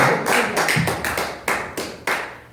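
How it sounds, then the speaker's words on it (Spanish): A congregation at a Yom Teruah church service claps in a few loud, fairly close bursts, with uneven rhythm and gaps between the clusters of claps. "Den un aplauso a Dios con todo el corazón."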